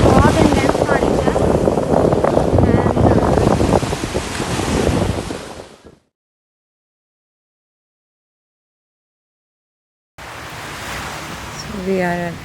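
Rough ocean surf and gusting wind at Biyadhoo Island in the Maldives roar loudly against the microphone, cut to silence for a few seconds, then return more softly with a voice talking over them.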